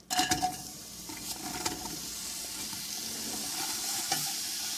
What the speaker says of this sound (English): I heated up a little bit of olive oil in here. Oopsie. And I'm going to add it. Ready for the sizzle.